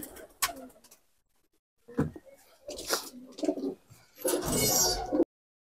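Purebred Punjabi Malwai pigeons coo in several separate bursts, close and fairly loud, with short quiet gaps between them and no voices.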